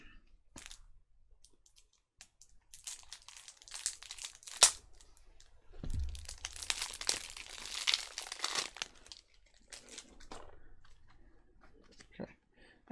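Loose plastic wrapping on a Riftforce board game box is cut and pulled open, giving close, intermittent crinkling and tearing with a sharp snip, quiet between bursts of rustle.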